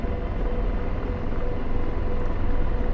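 AH-64 Apache attack helicopter in the DCS combat flight simulator, a loud, steady rotor and turbine drone that stays even throughout without a break.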